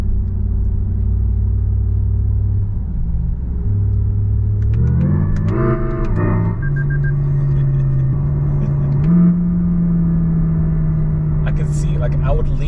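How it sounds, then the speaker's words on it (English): A 2026 Lexus RZ electric car accelerates with synthetic engine tones that climb and drop in stepped simulated gear changes, loud and close over a constant cabin rumble, while a person talks throughout. "So it does simulate actually changing gears, and it goes up to eight gears."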